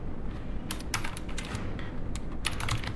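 Rapid clacking keystrokes on a computer keyboard while names are entered into an Excel spreadsheet, in quick irregular bursts with short pauses and no speech.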